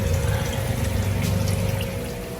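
Tap water running straight from a faucet to top up aquarium tubs housing guppies and arowana, a steady close gushing pour with low pump-like rumble throughout, no talking.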